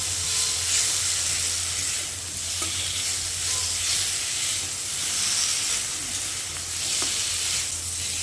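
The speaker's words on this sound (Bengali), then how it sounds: "কচুটাকে মশলার সঙ্গে বেশ খানিকক্ষণ সময় ধরে কষিয়ে নিয়েছি" Chunks of gathi kochu taro being sautéed with spices in a pan, a steady close sizzle and hiss with occasional spatula stirs and scrapes, continuous and without talk.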